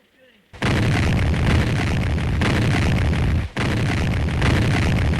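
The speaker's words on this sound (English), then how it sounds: "there was a low-intensity artillery duel in progress." Booming artillery fire from a low-intensity duel on the Russian front, a dense, sustained roar of blasts with one brief dip before the barrage resumes, loud and close.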